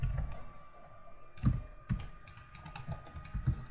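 Keyboard and mouse clicks while modeling in 3D software, light close taps and clicks in an uneven rhythm, several sharper presses standing out, no talking.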